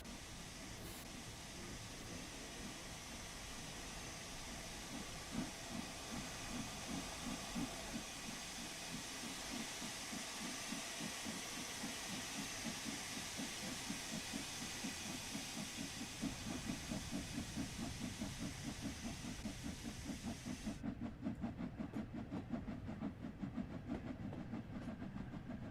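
Steam locomotive safety valve blowing off in Train Sim World 3 on the West Cornwall steam railtour in snow: a loud, continuous roaring hiss that holds steady for about twenty seconds before cutting off, leaving rhythmic chuffing and rail clatter.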